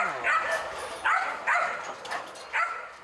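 A police training dog at a Korean training ground barks in four sharp, close bursts with short whines in between, loud and alone.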